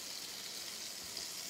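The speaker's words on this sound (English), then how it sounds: "I'm not frying it very hot." Low carb salmon patties fry gently in butter over moderate heat, giving a steady, soft, continuous sizzle with no talking.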